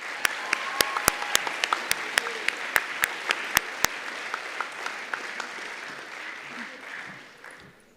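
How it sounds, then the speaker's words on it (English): A convocation audience at a traditional school claps for graduating students, with sharp individual claps standing out over a dense, steady wash of applause that gradually thins and fades toward the end. "Let's give them a round of applause."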